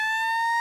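A synthetic siren sound effect used to mark breaking sports news, a loud steady electronic tone held alone for under a second.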